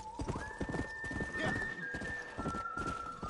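Horse hooves clip-clop in a steady rhythm while riding in the video game Red Dead Redemption, paired with a sustained whinnying tone and a busy game soundscape; the hooves stay close and moderately loud throughout.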